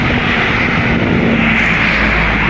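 A passing car sprays dirty water across the street, a loud, steady broadband wash of splashing and tire rush close by that fills the whole moment without a break.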